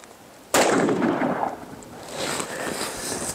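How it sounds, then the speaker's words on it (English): A .44 Magnum revolver shot strikes a DIY fiberglass body armor panel: one sharp, loud report cuts in from quiet, followed by a decaying rumble and a fainter trailing echo. "let's go ahead and hit this with the 44 mag"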